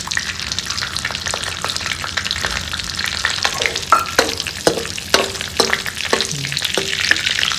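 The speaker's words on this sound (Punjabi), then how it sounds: "ਇਧਰ ਆਪਣਾ ਘਿਓ ਗਰਮ ਹੋ ਗਿਆ ਜੀ ਇਹਦੇ ਤੇ ਆਪਾਂ ਪਾਵਾਂਗੇ ਕਾਜੂ ਤੇ ਦਾਖਾਂ" Cashews and raisins fry in hot ghee with a bright, constant sizzle, punctuated by a rhythmic series of sharp spatula clicks and taps against the pan as they are stirred.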